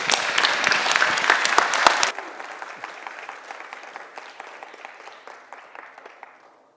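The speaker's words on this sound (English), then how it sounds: "please round of applause for Mr." Audience at a SCaLE tech conference talk applauds after the session ends: a loud, dense round of clapping that abruptly thins after two seconds into scattered, fading claps.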